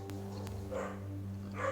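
Dogs bark a couple of times in a room, short muffled woofs and yips over a steady low hum from music playing nearby.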